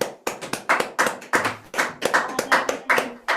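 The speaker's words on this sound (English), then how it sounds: "Applause." Clapping from a small group in an online session, a sparse run of distinct, uneven claps with short gaps, close and clear.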